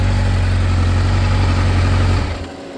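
A 1986 Kawasaki Ninja 1000R motorcycle engine running at a steady, loud, close idle with a deep throbbing hum, then shutting off and fading out near the end.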